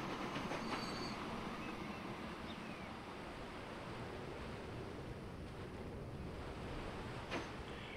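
A tanker train rolls along steadily in the Transport Fever 2 railway game, its continuous rumbling rail noise close and even throughout, with a brief clack near the end and no talking.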